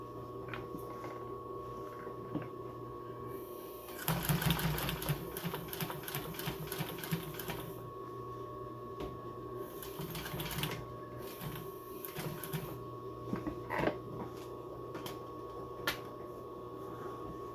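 Industrial sewing machine stitching through foam and vinyl upholstery, loud rapid needle chatter in two bursts of several seconds each, separated by quieter handling noises and a steady background hum.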